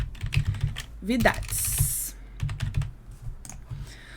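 Keyboard keys clatter in quick irregular bursts while text is typed into a spreadsheet, fairly close and moderately loud, with a brief hiss partway through.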